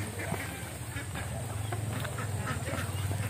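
A flock of ducks quacks on a farm in the rain, dense overlapping calls at moderate distance over a steady background hiss, with someone speaking faintly at times.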